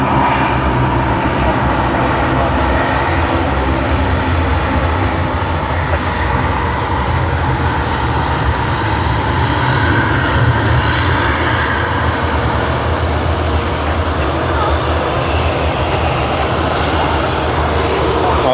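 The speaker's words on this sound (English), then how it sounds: "we'll just capture this taxiing aircraft, the Dash 8 once again." Dash 8 turboprop taxiing at Sydney Airport, a steady loud engine roar and propeller drone that holds without pause, broad and continuous, heard from a distance across the airfield.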